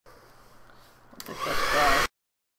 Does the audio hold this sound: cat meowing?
no